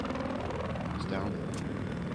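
An attack helicopter in Battlefield 4 thrums steadily with a dense rotor and engine roar, loud and continuous, with a brief chirp of game effects partway through.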